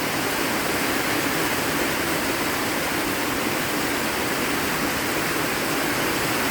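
Heavy rain pours onto a metal roof and down a gushing downspout on a rainy day in East Texas, a dense, loud, unbroken roar of water with no pauses or voices.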